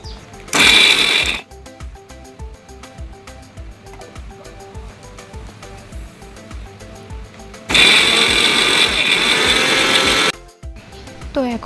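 A kitchen grinder whirs loudly in two bursts while pulsing ginger, green chilli and cashews into a paste, the first burst short and the second longer, with quieter rhythmic clicking and ticking sounds in between.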